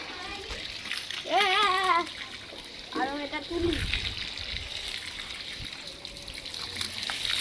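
A child jumps and splashes in water on a rooftop, sending out repeated sloshing splashes, while a voice and an adult talk over the sound nearby.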